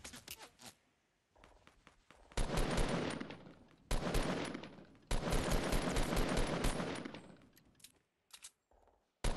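Rapid bursts of Fortnite gunfire in bursts of several seconds, loud and close, with short pauses between volleys and brief quiet gaps at the end.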